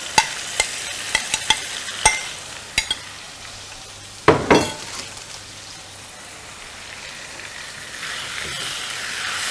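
Goat liver hits a pan of browned onions, scattered sharp crackles giving way to a loud burst and then a steady close sizzle as it fries, with no talking over it.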